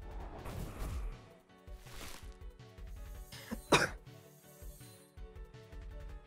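A single sharp cough bursts out suddenly over a video game soundtrack with music and battle effects, loud and brief against the steady background.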